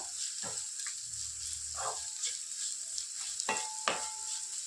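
Dry fish frying in oil in a pan, with a steady soft sizzle throughout and a few scattered scrapes and stirs of a spoon, close and fairly quiet, with no talking.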